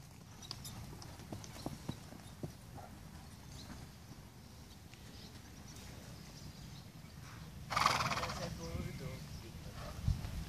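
A horse trotting outdoors, its clip-clop hooves sounding as a faint, irregular patter, with a louder burst near the end that may be a whinny or snort; a person talks quietly over it.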